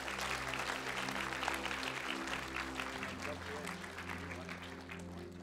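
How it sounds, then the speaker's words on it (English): A church congregation applauds during a worship service: steady, dense clapping throughout, with sustained low musical tones underneath and some voices mixed in. "Can we give a big round of applause to God and God alone?"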